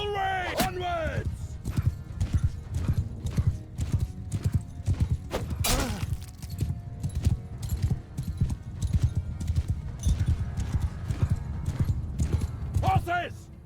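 Cavalry horses gallop in a massed battle in Mount & Blade 2: Bannerlord, with a loud continuous drumming of hooves and occasional neighs, while shouted voices rise over the charge.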